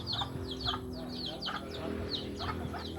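Chickens on a farm clucking in quick, repeated bursts close by, several birds calling over one another at a moderate level with faint background sounds.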